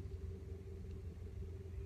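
Manual car pulling away in first gear as the clutch is gently released, a steady low engine rumble with a faint hum throughout, close and even.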